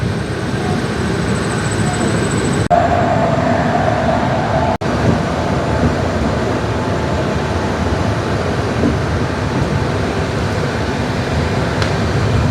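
A train pulls into Azimganj Junction station, a steady, loud rolling rumble that carries on unbroken for the whole stretch without any talk over it.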